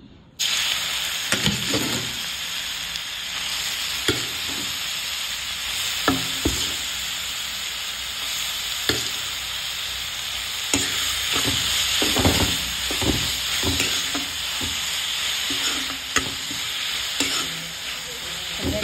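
Grated carrots sizzle in ghee in a kadai for carrot halwa, a continuous close frying hiss broken by frequent scraping stirs and clinks of a spoon against the pan.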